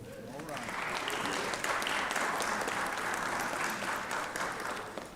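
Applause fills a legislative chamber, a sustained round of clapping from the assembled members that builds quickly and holds steady, moderately loud, with faint voices underneath.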